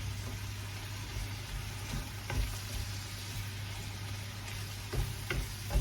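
Seasoned vegetables stirred in a frying pan: a steady sizzle over a low hum, with occasional soft scraping knocks from the utensil against the pan, no talking.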